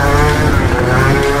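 A Gilera scooter fitted with a Stage6 70cc kit revs loud and close, a buzzing two-stroke engine note holding high and steady through the short burst.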